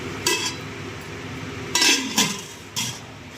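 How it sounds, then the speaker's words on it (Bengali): A spoon scrapes and clinks against a metal pot as jackfruit seeds, onion and tomato are stir-fried with spices for khichuri, giving four or five sharp, close knocks over a low background hum. "এখন মশলা দিয়ে কষাচ্ছি।"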